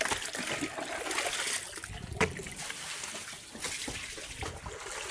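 Water pours and trickles steadily at close range while pigs are being fed, a continuous splashing flow with a brief louder splash midway and no talking.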